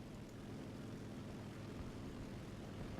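A dive bomber's propeller engine drones steadily in a War Thunder air battle, a loud and constant roar held through the dive with no voices.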